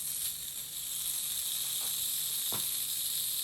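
Beef sliders laid into an already hot pan sizzle in a loud, continuous close hiss, with a couple of brief crackling bursts rising over the steady fry.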